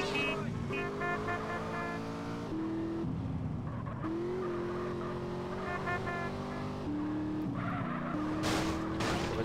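A car engine drones steadily with shifting pitch and tire squeals during a driving chase in Grand Theft Auto, loud and continuous throughout, with a voice faintly underneath.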